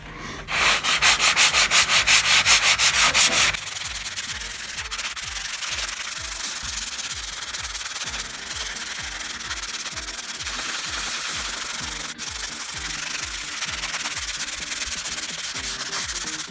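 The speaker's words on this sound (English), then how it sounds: "So you just want to make sure to sand your outside edge really good, and then make sure this is smooth here." A sanding pad rubs by hand over the outside edge of a small drywall patch at an old outlet. A burst of fast, rhythmic scrubbing strokes gives way to steadier, softer rubbing that continues alone and close.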